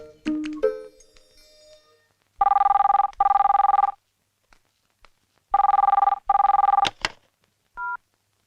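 A telephone rings in a home in two pairs of loud, buzzy double rings separated by a pause, with brief clicks and knocks before and after.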